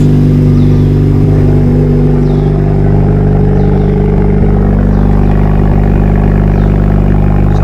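A Honda Civic FL5 Type R revs loudly and close up through its exhaust, a heavy continuous engine drone with rising and falling throttle and no talking.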